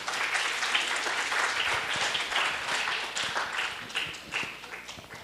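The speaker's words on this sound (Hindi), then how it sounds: "तालियां नहीं बजाएंगे क्या आप लोग?" An audience applauds at a bait bazi poetry competition in Aurangabad, dense clapping from many hands filling the hall continuously for several seconds.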